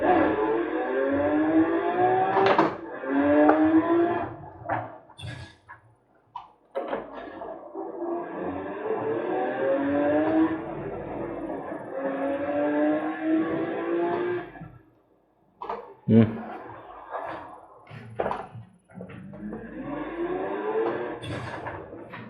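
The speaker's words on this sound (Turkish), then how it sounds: "Gaza bassam hemen araba bağırıyor." A Range Rover's engine revs and climbs through gears in the racing game Forza Horizon 4, played on a Logitech G29 wheel, with rising whines broken by brief shift gaps, loud and continuous throughout.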